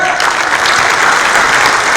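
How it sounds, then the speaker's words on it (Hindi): Loud, dense applause from a large audience at a Hindi comedy poetry show in Dubai, a steady unbroken wash of clapping close at hand throughout. "एक बार जोरदार तालियां बजाओ"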